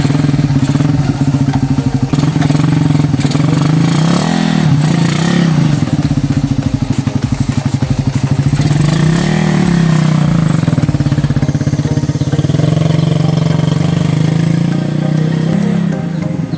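A Raider 150 motorcycle engine fitted with a newly installed dome piston runs loud and close, holding a steady throbbing drone with rhythmic revving surges and mechanical clatter throughout, with no talk.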